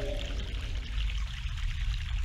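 Fresh mountain water pours steadily in The Longest Journey video game, a continuous, close splashing stream with no voices.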